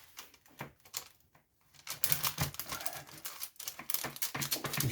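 A knife slicing down the center of a nut chocolate bar with coconut, almond and peanut, giving close, crisp cracking and crunching snaps in quick irregular bursts, with no talk.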